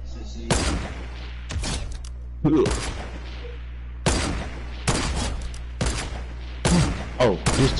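Shotgun blasts in a video game, about six heavy booming shots spread irregularly across several seconds, each with a sharp attack and a trailing rumble.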